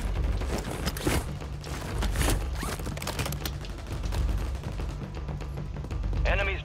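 Video game gunfire from a shooter match with sniping cracks and pops in rapid irregular bursts over a dense, constant battle din, with a short voice near the end.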